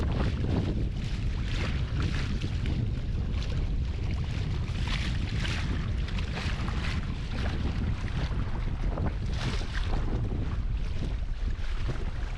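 DIY electric raft motor at full throttle on open water, a steady low drone and rush of water blended with heavy wind buffeting against the microphone, continuous throughout with no voices.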